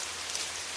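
Steady rain falls as a continuous, even broadband hiss with no pauses, close and moderately loud, with no voices or other sounds.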